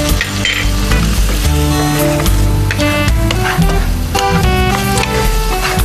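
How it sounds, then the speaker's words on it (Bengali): Chopped onion frying with prawns in a pan for a sour prawn soup, a loud continuous sizzle and crackle with occasional clinks and stirring scrapes, close and without talk. "চিংড়ি মাছটা হতে হতে আমি এতে একটু পেঁয়াজ কুচি দিয়ে দেবো।"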